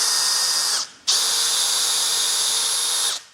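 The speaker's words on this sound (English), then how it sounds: "do a pre-drill bit just to make sure that we're going to get a nice drill" A power drill whirs at high speed in a short burst, pre-drilling a dowel hole in an American walnut panel, stops briefly, then spins up again for a longer steady run, close and loud.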